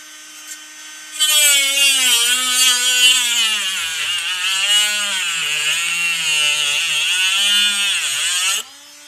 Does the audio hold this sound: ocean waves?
no